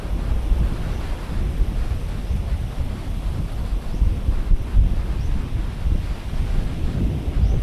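Strong gusting wind buffets the microphone on Boracay's White Beach ahead of an approaching typhoon, a loud continuous low roar with rumbling blasts and possible surf beneath, and no voices.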